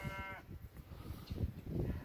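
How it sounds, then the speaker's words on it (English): Cows lowing in a pasture field, several short moos rising close by in quick succession after a brief tonal whistle at the start, with no talk over them. "You can see the cows over there a little bit."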